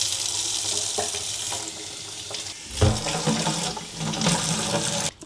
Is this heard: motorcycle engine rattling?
no